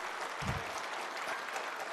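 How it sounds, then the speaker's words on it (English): An audience at a school annual day program claps briefly, a faint, even patter of many hands heard from a distance with a soft low thump near the start. "Can you clap for everybody here?"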